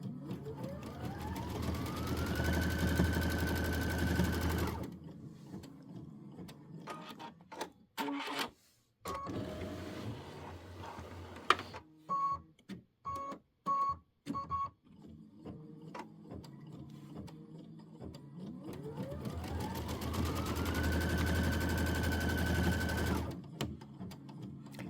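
An embroidery machine sews a quarter-inch seam allowance on a quilt block, its motor whirring up in rising pitch and running steadily, then pausing amid clicks and short stitching bursts before spinning up again, close and clear with no speech.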